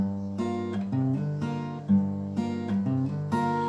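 Strummed guitar chords ring out in a steady rhythm, with quick hammered-on notes between strums, close and clear with no voices.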